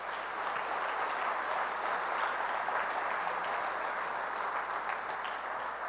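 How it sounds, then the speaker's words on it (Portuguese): A congregation in a church gives steady, even applause that fills the whole six seconds at moderate volume from many hands, heard alone without any speech. "Você pode dar um aplauso à palavra do Senhor"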